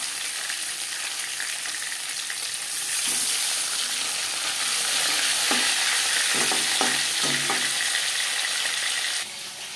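Pieces of silver carp fry in hot oil in a pan with a continuous close sizzle, and stirring scrapes and clinks rise near the end.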